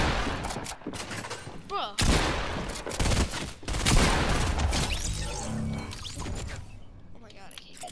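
Rapid video game gunfire bursts crackle and thump in quick clusters under excited talking, with a short exclamation cutting in partway.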